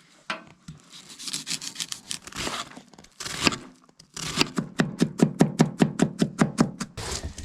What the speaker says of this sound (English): first thing we gotta do is we're gonna cut up an onion